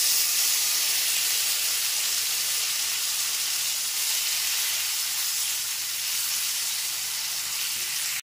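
Chopped tomato hits hot oil already seasoned with dried chilli and a bay leaf, giving a loud, steady hissing sizzle close by that holds evenly throughout with no talk, then stops sharply.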